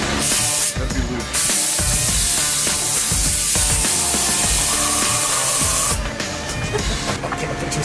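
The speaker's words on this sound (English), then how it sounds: "It's gonna spray that way." A loud, continuous, close spray hiss fills most of the stretch, dropping away briefly near the start and fading in the final seconds.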